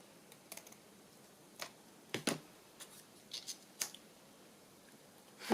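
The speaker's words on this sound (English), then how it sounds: "Let's cut that last piece of backing paper off" Scissors snipping through scrapbook backing paper, a scattering of quiet, sharp cuts with irregular pauses between them, close and fairly faint with no talking.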